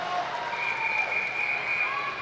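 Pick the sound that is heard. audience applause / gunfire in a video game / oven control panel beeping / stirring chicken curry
audience applause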